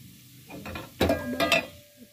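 Onions tip into a pan of frying urad dal, giving two short bursts of clatter and sizzle close by, then a faint settling hiss.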